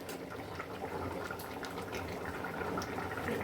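Rohu fish curry with papaya and potato simmering in a pot, a steady bubbling and soft boiling hiss with small pops, close and fairly quiet, no voices.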